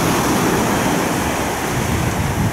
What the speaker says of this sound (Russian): тоже интересно, когда встречается волна с волной